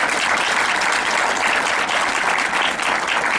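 An audience at a national education congress in Tamaulipas applauds a guest with steady, dense clapping that fills the hall for several seconds without a break.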